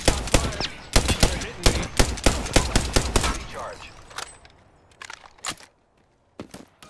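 A video game firefight with rapid, loud bursts of automatic gunfire that thin out into scattered single shots with gaps of quiet, then a final pair of cracks.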